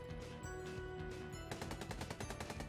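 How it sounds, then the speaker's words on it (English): Gunfire in an SCP dating simulator game: sustained rapid bursts of shots over a steady game soundtrack, dense and continuous, becoming sharper and more regular in the second half. "Gunfire erupts from behind"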